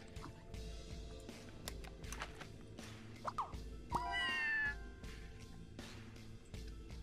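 Invading alien cats in the Scribblenauts Unlimited space level meow several times, with one drawn-out rising meow standing out among quieter game sounds and clicks.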